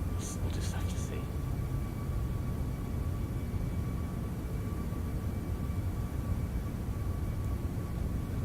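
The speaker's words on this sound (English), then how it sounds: "We are shifting along here in our big Airbus A340" A large Airbus A340 airliner taxiing at slow speed in the X-Plane 12 flight simulator: steady, continuous engine rumble and hiss throughout, with a few brief clicks near the start and no talking.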